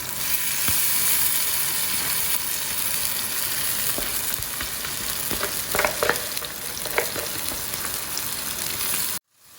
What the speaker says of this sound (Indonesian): Ini kita tumis sampai agak mengering ya, harum.